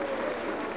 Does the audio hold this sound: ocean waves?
no